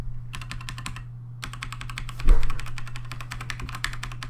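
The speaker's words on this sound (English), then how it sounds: "this is what it will sound without an O-ring" Rapid clicky typing on a Corsair K55 keyboard without O-rings, close up, with a brief pause near the start and a low steady hum underneath.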